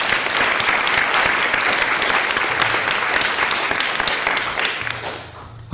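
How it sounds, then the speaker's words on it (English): Sustained applause from an audience fills the room, steady and dense, then tapers off near the end. "I think you deserve a round of applause"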